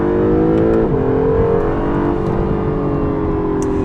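Engine of a 2017 Acura NSX revving hard in track mode, a loud continuous piercing roar with steady rising and falling pitch held close for the whole stretch.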